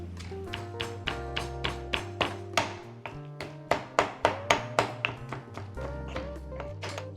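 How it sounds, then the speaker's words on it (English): Chili and shrimp paste pounded in a mortar for sambal belachan, with sugar added: a steady series of close, solid rhythmic thuds, some strikes louder than others, with a brief pause partway through. "Then I'm gonna keep pounding."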